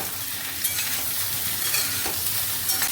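Sliced ridge gourd fries in a pan over high flame, giving a constant dense sizzle with occasional stirring scrapes, close and steady throughout with no voices.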